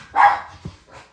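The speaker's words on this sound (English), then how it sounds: "Sorry about the dogs." A dog gives one loud, close bark, followed by a short softer yelp and a faint trailing whine, heard in a quiet indoor room.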